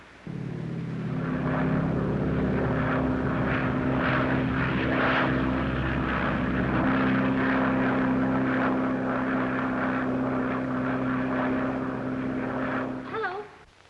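A propeller airplane drones steadily and loudly overhead for the whole stretch, its engine hum thick and continuous, in a 1937 film scene about a rising flood, with faint voices under it before it cuts off at the end.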